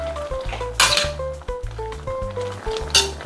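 A metal utensil scrapes and clanks against a pot while Ilocano dinengdeng vegetables are stirred, with bitter melon flowers and fish bagoong in the mix, giving irregular close knocks and rattles in quick succession.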